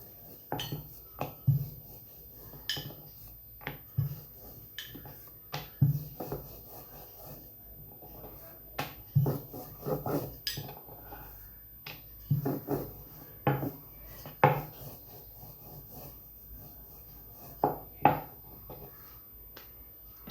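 Sweet jaggery puri dough, lightly greased with ghee, being rolled out with a rolling pin, giving soft scattered wooden knocks and rubbing taps at an irregular pace, faint and close, with no talking.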